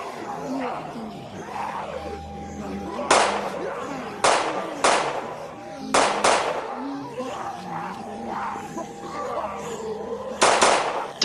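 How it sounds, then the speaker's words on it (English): Sharp gunshots of cover fire in a Lego The Walking Dead animation crack out in separate bursts every second or two amid yelling and background commotion. "I'll provide cover fire."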